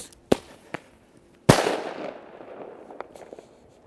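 Firecrackers lit and set off outdoors: a couple of sharp pops, then a loud bang with a crackling tail that fades, followed by scattered faint pops.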